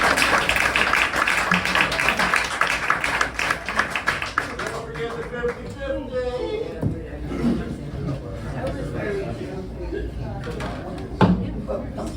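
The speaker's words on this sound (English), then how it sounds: "give these guys a round of applause" Applause and cheering from the audience at a live music show at Luna Star Cafe in Miami, loud at first and fading after a few seconds into scattered claps and chatter.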